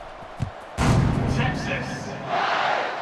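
A football stadium crowd at a Texas versus USC game roars as the kickoff unit takes the field, a faint murmur jumping to a loud, sustained surge of cheering that swells again near the end.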